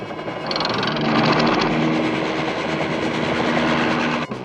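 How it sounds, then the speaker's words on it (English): In a cartoon, a helicopter's loud rotor and engine roar fills the scene, close and steady, with a brief higher whine near the start and a sudden cut at the end. "Now to capture that copter."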